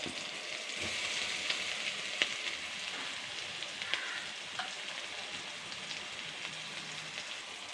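Crushed coconut, chili and garlic frying in a pan for horse gram thoran, a soft continuous sizzle with occasional light pops and stirring scrapes, heard alone at low volume.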